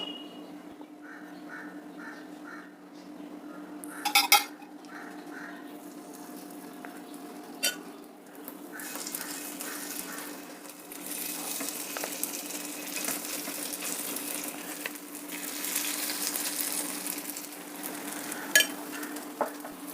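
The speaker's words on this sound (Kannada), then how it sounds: "ಪಡ್ಡು ರೆಡಿ ಮಾಡ್ಕೊಳ್ಳೋಣ ಈಗ ಸ್ವಲ್ಪ ಸ್ವಲ್ಪ ಎಣ್ಣೆ ಹಾಕ್ತಾ ಇದ್ದೀನಿ" Paddu batter frying in a lightly oiled paddu pan, a faint, soft sizzle that grows steadier over time, with a clink of cookware and distant bird calls in the background.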